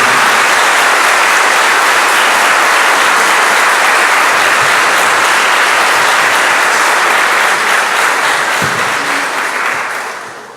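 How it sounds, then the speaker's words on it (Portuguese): Dense, loud applause from a church congregation during a sermon, a steady wash of many hands clapping that fills the whole stretch and begins to fade only at the very end. "Aplauda a palavra de Deus"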